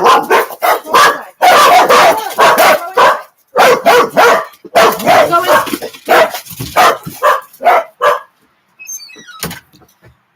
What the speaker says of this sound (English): Don't bark at the people at the church or you're going back in.